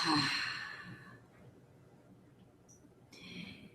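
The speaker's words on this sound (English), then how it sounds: "Inhale and exhale" A slow, audible breath during a guided breathing exercise after a workout: a soft sighing exhale at the start, a quiet pause, then another breath drawn in near the end, close and gentle.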